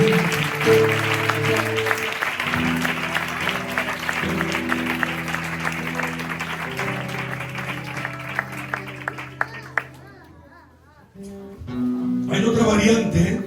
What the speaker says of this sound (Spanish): Así que le damos un fuerte aplauso al Dios